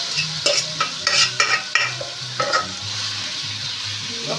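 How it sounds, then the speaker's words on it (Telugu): Marinated chicken frying in a mint and coriander paste for chicken biryani, with a steady sizzle broken by repeated stirring scrapes of a spoon against the pan. "ఒక 5 నిమిషాలు పచ్చివాసన పోయేంత వరకు బాగా ఫ్రై చేయాలి."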